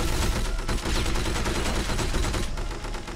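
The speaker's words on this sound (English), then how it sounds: "Here comes a lot of explosions." Rapid gunfire and blasts from an Xbox action video game based on a movie, forming a dense, continuous barrage of loud cracks and booms that shift in character near the end.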